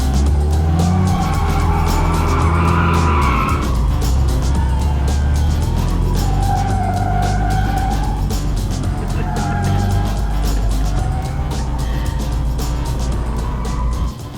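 A drifting car accelerates hard through a turn, its engine roaring loud and close while the tires squeal and skid in long, wavering screeches that continue throughout.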